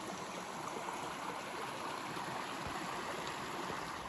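A river in Lerderderg State Park flows steadily, a dense, even rushing wash of water heard alone at moderate level without any voices.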